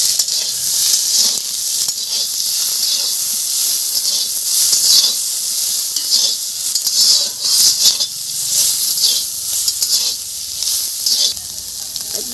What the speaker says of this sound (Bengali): তেল দিলাম, তারপর আমি চিংড়ি মাছটা ঢেলে দিচ্ছি।